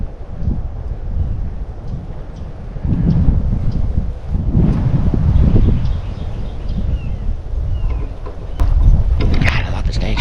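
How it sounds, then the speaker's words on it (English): Gusty wind buffets the microphone outdoors on a hiking trail at a state park campground, a loud continuous low rumble that surges and eases over several seconds, with faint voices in the background. "Sorry about the wind."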